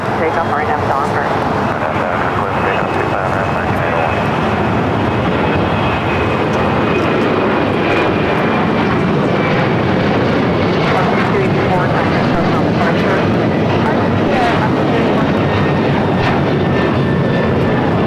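American Airlines A321neo jet taking off from runway 25 right at LAX, bound for Las Vegas: a loud, steady broadband engine roar that holds for the whole stretch while a voice talks over it.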